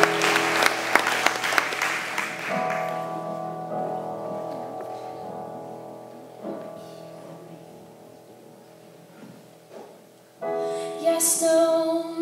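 An audience at a public meeting applauds a singer, a dense burst of clapping that is loud at first, then thins and fades under a lingering hum.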